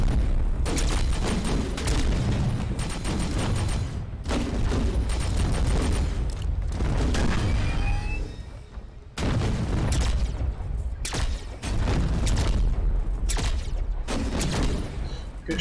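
Enemy gunfire in the sci-fi game The Signal From Tolva: dense, loud volleys of shots and booms that crackle almost continuously, broken by brief pauses.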